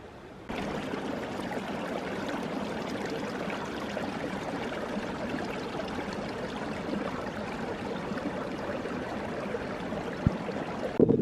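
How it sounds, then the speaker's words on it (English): A flowing water stream running between two mountain lakes, a steady close rushing and gurgling that continues evenly, with a faint thump near the end. "At least now I have a flowing water source between these two lakes."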